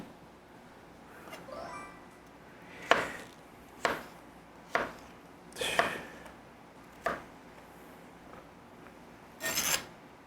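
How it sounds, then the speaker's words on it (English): A knife chops beets for borscht on a cutting board, about seven crisp, separate cuts spaced a second or so apart over a quiet room, some with a short scraping rasp. "I don't have that Eastern European strength to cut up beets"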